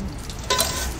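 Cumin and mustard seeds hit hot oil at a low gas flame, starting with a soft hiss, then a brighter, louder sizzle that holds steady through the second half.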